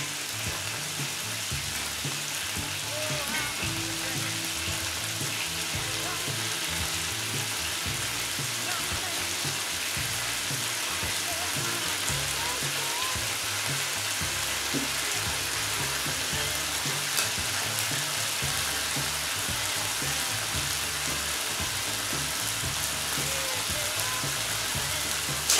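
Food frying in a pan in oil, being seared to seal it, with a steady crackling sizzle and occasional stirring clatter running close and even throughout, with no talk.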